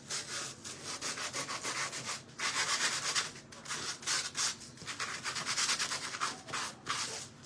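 Hand sanding a wooden PRAY sign with worn sandpaper: steady, close scratchy rubbing strokes in repeated bursts with brief pauses between them.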